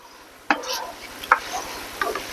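Stirring a sauce of oyster sauce, brown sugar, soy sauce and butter in a pan: three brief scraping strokes over a soft, steady simmering hiss.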